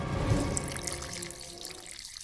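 Water poured into a golden bowl, a close, continuous splashing stream that fills the moment steadily and then eases slightly toward the end.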